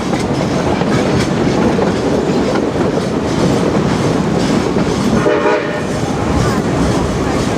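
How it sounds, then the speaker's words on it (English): A narrow gauge train, West Side Lumber Shay No. 9 on the Georgetown Loop Railroad, rumbles loudly along the rails with steady clattering and a brief horn-like tone partway through, heard from on board. "the railroad we're riding on today is a narrow gauge railroad"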